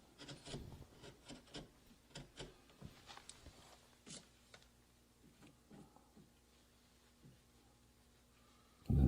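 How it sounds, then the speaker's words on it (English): A hand gouge carves oak wood without a mallet, pushing and skewing to a stop cut, giving a series of soft, close scraping rasps in irregular bursts, ending with a louder thump. "I'm slicing and skewing, pushing to the stop cut."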